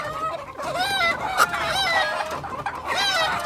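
A fine Paso rooster and hens clucking close by, with repeated warbling calls and cackles rising and falling throughout, loud and steady with no talk.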